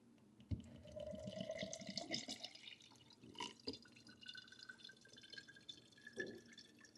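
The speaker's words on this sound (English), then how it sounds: "I'm going to pour the water up on top and see if it filters through without agitating it." Water trickles and drips steadily through a triple-layer metal AeroPress coffee filter, a soft continuous patter with scattered louder drops, close by and without talking.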